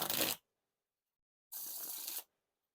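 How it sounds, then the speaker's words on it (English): Theory11 Purple Monarchs playing cards riffle shuffled in two bursts: a short crisp flutter, a pause, then a longer rippling riffle, close and clear with no talking. "Now for the riffle shuffle or bridge shuffle."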